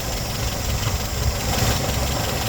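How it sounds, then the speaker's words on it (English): A Mazda B2000 pickup truck engine idles steadily, a dense, even rumble close by with no voices over it. "But I'm pretty happy the way it's idling."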